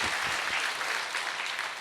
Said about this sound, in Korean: 오늘 방문으로 끝나지 말고 매주마다 오시기를 바라는 격려의 마음으로 박수 보내겠습니다.